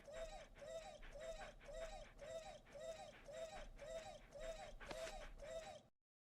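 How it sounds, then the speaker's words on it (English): A synthetic dog bark from the Deadly Premonition video game repeats about eleven times at a fast, even rhythm. Each short yelp sounds alike, fairly quiet and mechanical, before cutting off into silence. "Why'd they make the dog noise do that?"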